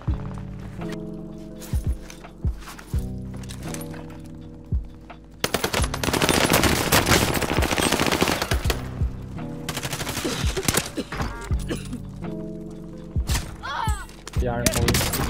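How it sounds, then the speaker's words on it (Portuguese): Rapid automatic gunfire in a first-person shooter game, loud and close, with sharp single shots early on giving way to sustained bursts and scattered reports, while players talk over it. "Eu tô tomando tiro de trás aqui."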